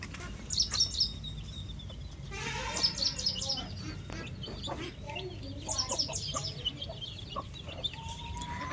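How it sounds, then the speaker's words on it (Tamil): Native country chickens in a farm coop cluck and chirp in repeated bursts of high calls, with softer murmuring clucks between them, close and continuous; no one speaks. "இந்த சைடும் கோழிங்க இருக்காங்க ஃப்ரெண்ட்ஸ்."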